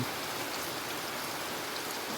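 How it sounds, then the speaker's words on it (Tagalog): Heavy typhoon rain pours steadily outside a house, a dense, unbroken hiss with no let-up, close and loud with no voices over it. "Manpakalakas ng ulan."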